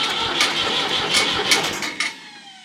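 A tractor engine cranks and tries to start, a loud close rhythmic churning from the starter that keeps going without catching and then cuts off near the end.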